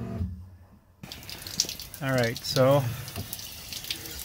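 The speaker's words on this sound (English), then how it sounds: "Got the exterior shower open. Obviously it's working." Water runs from an exterior shower on a converted vehicle, a steady hiss that starts abruptly after a short silence, while someone speaks briefly over it.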